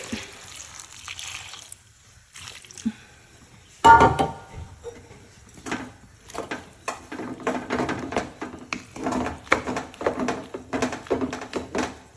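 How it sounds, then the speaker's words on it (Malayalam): Coconut milk poured into a pot of cooking cassava on a home kitchen stove: a soft liquid splash and trickle following a few light clinks of the pot, close and fairly quiet, with no talk. "ഇനി നമ്മളിതാ തേങ്ങാപ്പാല് നമ്മൾ ആക്കി വെച്ചിട്ടുണ്ട് അത് അതിനകത്തേക്ക് ഒഴിക്കുക"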